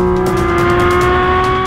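A 2022 Porsche 718 Cayman GT4 RS screams loudly at high revs while testing at the Nürburgring, a sustained, close, harmonic engine howl with no talk.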